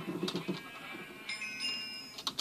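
Faint bleats from a Minecraft sheep during a Mineplex Snake round come in a couple of short, quiet calls over low background game noise.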